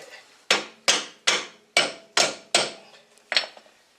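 A hammer strikes a rusty brake part on a 1998 Lexus ES300, seven sharp metallic blows in a fairly steady rhythm, close and loud, each ringing briefly before the next.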